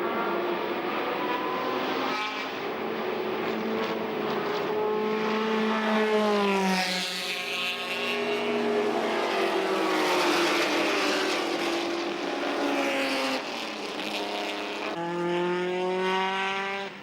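Race cars, including a Ford GT40, racing at Watkins Glen, engines revving and shifting through gears as cars pass, with rising and falling engine notes and occasional tire squeal, steady and moderately distant.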